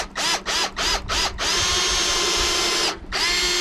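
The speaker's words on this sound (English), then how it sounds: "it doesn't hurt to pre-drill the other tool" A power drill pre-drills a hole in wood, starting with four short stuttering bursts before a long steady whine, then a brief pause and another run, loud and close with no talking.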